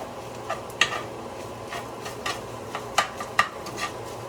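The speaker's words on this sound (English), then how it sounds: "And you're just going to let this simmer for about 5 minutes or so." Meat and sofrito for empanadas simmer in a pan, with a soft, steady bubbling sizzle broken by a few light utensil taps and scrapes against the pan.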